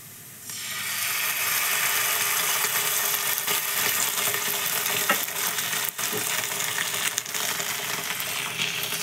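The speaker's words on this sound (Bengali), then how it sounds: "টমেটো সস দিয়েও বেশ কিছুক্ষণ ভেজেছি আলুগুলো" Potatoes for aloo dum fuchka fry steadily in a pan with tomato sauce, giving a loud, continuous hissing sizzle that starts abruptly and carries on with small pops and crackles.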